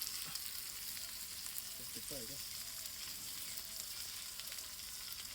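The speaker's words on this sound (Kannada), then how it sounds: "ಗೋಲ್ಡನ್ ಕಲರ್ ಬರೋ ಮಟನು ಫ್ರೈ ಮಾಡ್ಕೊಳ್ಳಿ" Mutton fries in a pan at a village-style cook, giving a faint, steady sizzle with a few soft stirring scrapes and some low voices.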